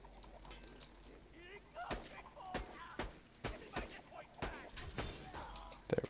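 Pistol gunfire in Borderlands 2, a series of sharp loud shots spaced irregularly about half a second apart, with faint game ambience between them.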